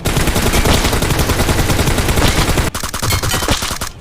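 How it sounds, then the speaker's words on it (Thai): Loud, dense automatic gunfire from the PUBG Mobile video game, set on the Vikendi map, rattles in rapid continuous bursts with a short break near the end before firing resumes. "เฮ้ยสายสายสายมันยิงกันอยู่ด้านนอกด้วย"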